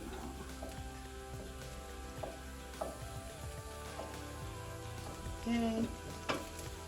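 Half of a large chopped onion sizzles in a pan while being stirred for vegan lard spread, a constant crackling hiss with occasional soft scrapes and a brief spoken remark.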